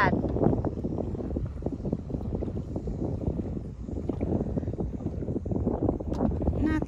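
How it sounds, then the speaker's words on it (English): Steady breeze of about 10 mph gusting across open water near an oyster sandbar off St. George Island, with a low continuous rush and buffeting on the microphone throughout, lapping water underneath. "Nice and breezy today, 10 miles an hour,"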